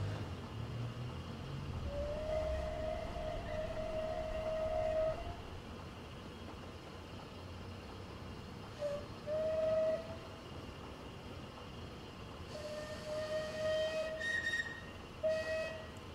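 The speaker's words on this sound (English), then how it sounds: "So you get quite a few whistles with this, which is very nice." Steam locomotive whistle from the Clan Line, a Merchant Navy class engine in Train Simulator 2020, sounding in several long and short blasts over a steady rumble of the train, with no talking.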